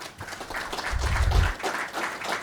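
An audience at a congressional briefing gives a short round of applause, a dense burst of clapping that swells briefly in the middle before fading.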